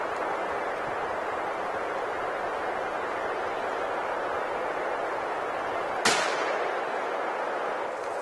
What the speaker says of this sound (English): Good shot, Grim.